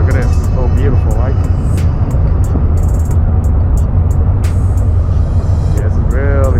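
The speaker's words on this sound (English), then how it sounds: "I know you hear the cars above me" Steady low traffic rumble of cars on a road overhead in Queens, New York City, continuous throughout, with a person talking over it.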